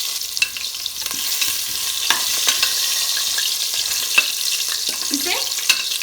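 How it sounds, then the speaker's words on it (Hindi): Potatoes fry in hot oil for aloo biryani, giving a continuous loud sizzle close up, broken by occasional scraping stirs of a utensil in the pan. "आलू को हमने गोल्डन करके फ्राई कर लिया है।"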